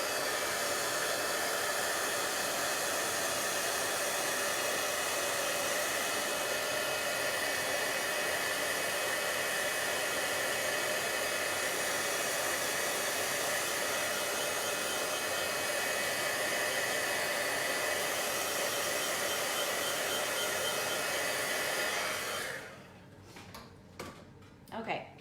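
A hair dryer heat tool blowing steadily while drying ink on a Halloween card, a loud continuous whooshing drone that cuts off near the end, followed by a few faint handling clicks.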